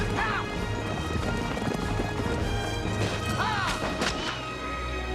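Horses pull a wagon in a western film scene, with steady clip-clop hoofbeats, brief whinnies and clattering crashes over a loud, dense rumble of action noise.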